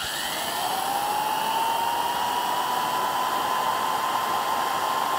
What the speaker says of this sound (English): introducing the old man's 1948 vintage Wolf electric drill.